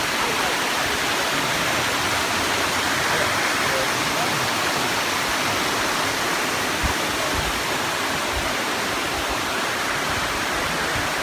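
Water of Pine Creek Gorge rushing over rocks, a loud, steady, close roar of flowing creek that continues unbroken throughout.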